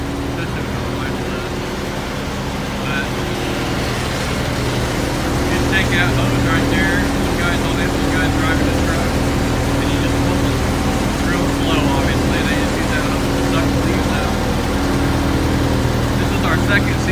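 Heavy truck engines rumbling loudly and continuously nearby at a shop, a deep droning roar that holds steady throughout, with faint voices underneath.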